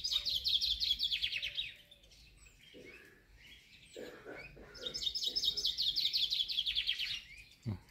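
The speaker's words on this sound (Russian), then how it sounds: "Да поет зяблик." A chaffinch in an aviary for songbirds sings two clear, fast descending trill phrases, one at the start and one near the end, with quieter rustling and knocks in between.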